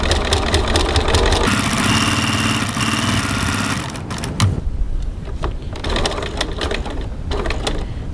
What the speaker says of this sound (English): Now I just like to stitch backwards and forwards a little bit here just to secure the end of the pocket.